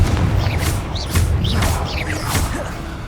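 A Confringo explosion spell blasts in the Hogwarts Legacy game, a dense run of booming impacts and whooshing streaks with crackling flourishes over a heavy low rumble, loud and continuous for a few seconds.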